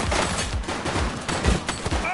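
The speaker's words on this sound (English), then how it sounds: "She's shooting!" Gunfire in the police video game The Precinct, a rapid burst of several sharp shots packed into about two seconds, loud and close, with a voice mixed in.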